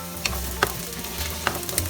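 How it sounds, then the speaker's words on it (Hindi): Potatoes and carrots fry in cooking oil for a mixed vegetable curry, giving a steady close sizzle with a few sharp pops and stirring clatters scattered through, and no one speaking. "आलू का साथ गाजर हम और 2 मिनट फ्राई करेंगे"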